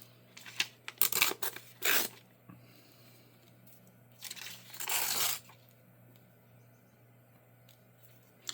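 Paper is torn for a journal in several quick, close ripping bursts, some short and some drawn out, with quiet pauses between them and no talk.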